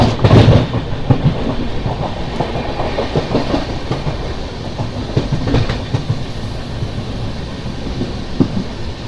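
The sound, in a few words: Narayanadri Superfast Express train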